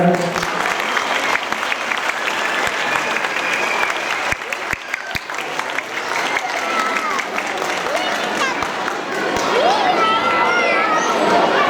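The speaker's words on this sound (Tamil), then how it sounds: "நல்லா கைத்தட்டல் கொடுங்க" A large crowd at a Tamil school annual day applauds loudly and continuously, dense clapping mixed with voices, shouts and some cheering, busy and close throughout.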